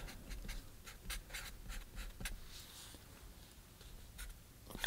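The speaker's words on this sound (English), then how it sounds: "Preliminary sketch first." Pencil scratches across paper in short, rapid strokes while drawing a preliminary sketch for a floral still life, close and quiet with steady rhythmic scribbling and no talk.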